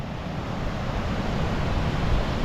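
Big ocean swell surging up a remote beach, a steady broad roar of surf and wash with wind noise, continuous and fairly loud with no voices.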